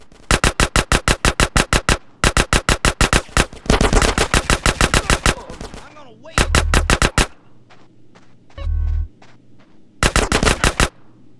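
Machine gun fire in GTA San Andreas, loud close bursts of rapid evenly spaced shots separated by short gaps, with a few heavier thuds in between and no talk.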